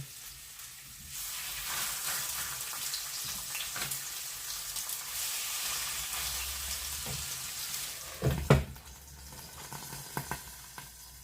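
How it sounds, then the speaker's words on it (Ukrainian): Steady sizzling of potato-and-meat sandwiches frying in a pan over low heat, a soft continuous crackle with a few louder pops and clatters near the end. "І на невеликому вогні смажемо з усіх сторін."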